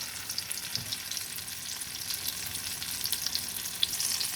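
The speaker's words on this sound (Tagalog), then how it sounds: "piprituhin lang po natin siya sa torta na itlog" Eggplant frying in a pan for an egg omelette, a steady close crackling sizzle with dense popping oil throughout, loud and continuous with no talking.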